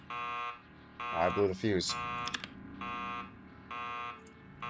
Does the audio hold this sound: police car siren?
no